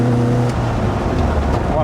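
An Analogue SuperSport Lotus Elise S1 idling lumpily like a race car: a loud, close, steady low engine drone with a throbbing pulse, with a voice speaking over it.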